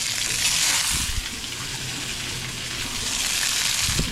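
Water runs and splashes steadily as tilapia and radish are rinsed, a continuous gushing wash from a tap with a few low clatters of produce and a pan against the basin.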